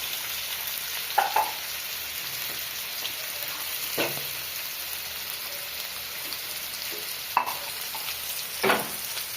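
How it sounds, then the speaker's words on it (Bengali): Soft continuous sizzle of greens frying in a pan, with a few brief clinks and stirring scrapes scattered throughout; no voices. "ডাল শাকটা একটু ভাজা ভাজা হচ্ছে"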